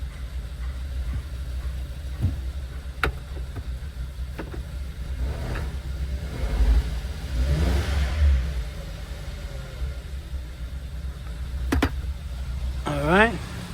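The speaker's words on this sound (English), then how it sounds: "Rev it a little bit. Because I got it on a lift." A car raised on a lift during a head gasket sealer test idles with a steady engine rumble, swelling into a brief rev midway, while people talk nearby.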